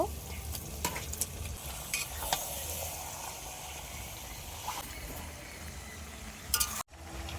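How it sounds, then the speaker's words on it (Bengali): Marinated chicken with cumin paste, chili paste and turmeric sizzles in a kadai, a steady close frying hiss with spatula stirring scrapes throughout and a brief clatter near the end. "পরিমাণ ম্যারিনেট করা মাংস কড়াইতে দেব"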